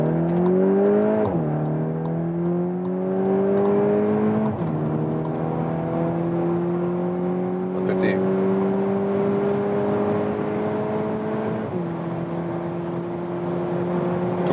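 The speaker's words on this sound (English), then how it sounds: "putting it here into the race mode, and German Autobahn with acceleration from 50 kilometers an hour." A VW T-Roc R in race mode accelerates hard on the German Autobahn from about 50 km/h, its engine note rising steadily through several gear changes with brief dips between them, loud and continuous inside the cabin.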